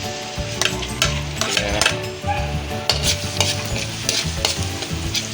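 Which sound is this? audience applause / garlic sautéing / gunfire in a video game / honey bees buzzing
garlic sautéing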